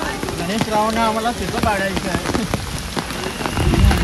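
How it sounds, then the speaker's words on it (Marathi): Steady rain patters on surfaces nearby while people talk and move around in the background. "आणि भरपूर असा पाऊस पडतो इकडे."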